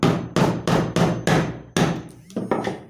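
Eight loud, evenly spaced hammer blows drive a nail into a piece of wood to fix a hanging loop. The strikes come close and heavy, with a short gap before the last few.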